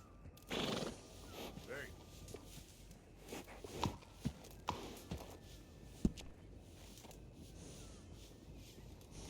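A horse whinnies once, loud and close, followed by scattered hoof clops and light taps, in the video game Red Dead Redemption 2.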